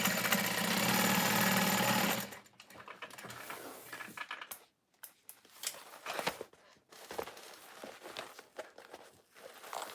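A sewing machine stitches a satchel shut in one loud, steady run of about two seconds, followed by quieter rustling, tapping and handling noises close by.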